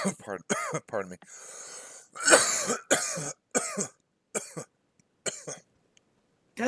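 Several sharp coughs and throat-clearing bursts in short, separated clusters, loud and close, with a voice speaking in between.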